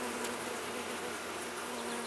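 A colony of honeybees hums steadily at a hive that has lost its queen, a soft continuous buzz with no voices.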